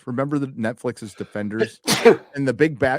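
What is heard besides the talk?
sneeze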